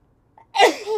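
One sharp human sneeze, close and loud, preceded by a faint intake of breath.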